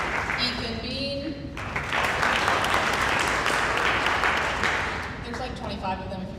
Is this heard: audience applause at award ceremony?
yes